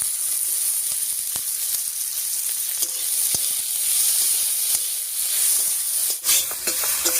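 Ginger, garlic, onion, slit green chili and chopped tomato fry in hot oil over whole cumin, for a corn-based popcorn curry. A loud, continuous hissing sizzle holds throughout, with occasional faint knocks of stirring and no talk.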